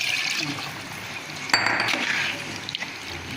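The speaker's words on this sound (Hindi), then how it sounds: "ये मेरे 1 गिलास चावल हैं तो इसमें अपने पौने 2 गिलास पानी रख लिया था, वो हम इसमें डालने लगे, पौने 2 गिलास पानी।" Water pours steadily into a pot of rice for potato pulao, about one and three-quarter glasses' worth, making a continuous close liquid gush with a faint clink near the middle.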